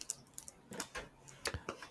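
Someone types on a computer keyboard in rapid, irregular clicks and taps, close and fairly quiet, with no talking.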